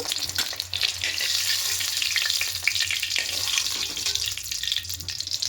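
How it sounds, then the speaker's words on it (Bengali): Eggs fry in hot oil for a spicy egg curry, a steady crackling sizzle with light stirring and scraping throughout, close and fairly loud. "ডিমটা হালকা করে ভেজে নিয়েছি, এর থেকে বেশি কড়া করব না।"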